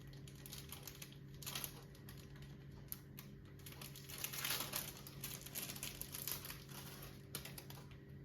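Packaging around a Beautiful Box fan makeup brush is opened, giving quiet close crinkling and rustling with small clicks over a faint steady hum.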